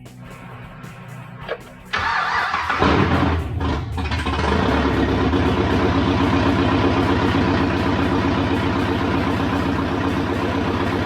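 A rebuilt police car engine with long-tube headers cranks briefly, catches and fires up, then settles into a steady, rumbling idle close by.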